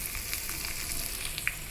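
Hot tempering hits mashed gongura chutney with a soft, steady sizzle of frying oil. Faint crackles and a light pop sound close by, with no voices.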